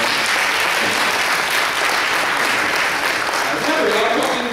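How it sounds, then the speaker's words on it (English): An audience at a school talk bursts into sustained applause for the people standing, a dense, steady clapping from a large crowd. "All you people sitting, please give the people standing a round of applause."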